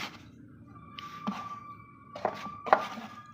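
Dough for kalo jam being mixed with a spatula in a bowl: a few sharp, close knocks and scrapes spaced irregularly over a quiet background with a faint steady hum.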